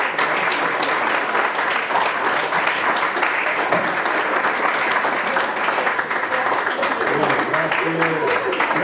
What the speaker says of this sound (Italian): vi chiedo un applauso, ma grandissimo.